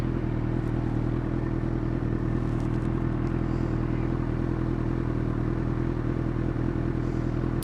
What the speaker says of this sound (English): It's pretty impressive how easily you can shift this bike.